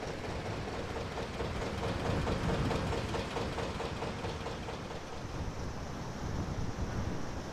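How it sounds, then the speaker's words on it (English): Strong, gusty winter wind along a canal by a narrowboat near Middlewich roars as a dense, continuous rush, swelling and easing slightly while buffeting the microphone, with no voices. "It's supposed to be gusts of up to 60 miles an hour today"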